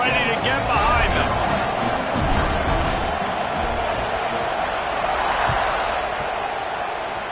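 A stadium crowd at a South Carolina football game gives a broad, steady roar that echoes after a kickoff, under a commentator's voice.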